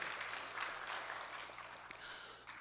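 A church congregation applauds during a Sunday worship service, a steady wash of many hands clapping together, soft and somewhat distant, running unbroken for a few seconds with a small flare near the end.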